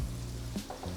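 Potatoes frying in plenty of oil in a pan beside sausage, onions and peppers, browning and starting to fall apart, with a steady close sizzle and a few faint stirring scrapes.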